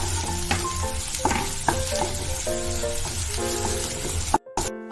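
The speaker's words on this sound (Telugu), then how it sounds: "ఇప్పుడు ఉల్లిపాయ ముక్కలు వేసుకుందాం. ఇవి బ్రౌన్ కలర్ వచ్చే వరకు ఫ్రై చేసుకోవాలి." Chopped onions fry in a pan until browning for a paneer recipe, a low steady sizzle with soft stirring scrapes and a few clatters, fairly quiet and close, with no talk.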